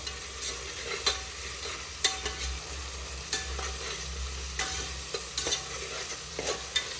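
Onions fry in a little oil with dried red chilies and curry leaves, a constant close sizzle punctuated by regular scraping stirs of a spatula in the pan.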